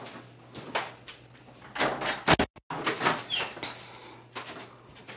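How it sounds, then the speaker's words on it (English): A door is opened indoors with a short burst of clattering and rattling near the middle. Quieter room sounds come before and after it. "Let me open this door."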